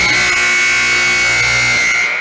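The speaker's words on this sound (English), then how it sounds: "We're going coming up on the loud buzzer noise" A loud electronic buzzer drones continuously for over two seconds at a junior high wrestling match, marking the end of a period with a harsh, steady tone.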